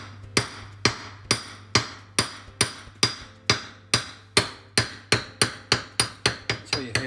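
A hammer taps a seal into the front hub of a Land Rover Defender, sharp metallic strikes at a steady pace that quicken toward the end, about twenty close, clear hits with nothing else heard.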